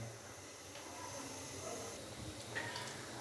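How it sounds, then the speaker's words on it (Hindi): Potato koftas sizzle in hot oil over a medium-low flame, a steady faint hiss of frying that runs without a break. "मीडियम से लो फ्लेम पे हमने इनको अच्छे से फ्राई करना है तकरीबन 3 से 4 मिनट के लिए।"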